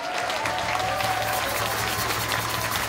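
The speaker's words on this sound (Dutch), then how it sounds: "Een groot applaus voor Lars." A live audience at a broadcast event claps loudly and continuously, a thick wash of hands over a low steady hum, with no letup across the short stretch.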